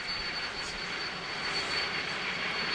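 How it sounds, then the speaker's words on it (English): A helicopter flies over the Tour de France riders, its engine a loud, steady, broadband roar with a whine, alone without voices. "Nice view of the helicopter there as it shoots the riders with that Wescam camera on the left-hand side of the helicopter's body."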